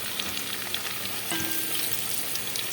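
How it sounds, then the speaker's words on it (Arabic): Onion sautés in butter and oil in a pot with a continuous close sizzle and crackle, a soft scrape or knock partway through, steady in level and free of voices. "هشوح البصله"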